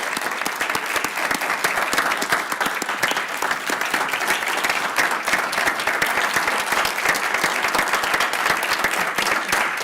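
A room of attendees at a county board of supervisors meeting gives a steady, sustained round of applause, dense rapid clapping with no talking over it.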